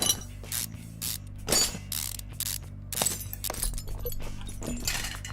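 Wrench work removing bolts during a car repair in Car Mechanic Simulator 2015: a series of clanking metallic ratchet bursts and mechanical clicks in an uneven rhythm, fairly close and clear with no talking.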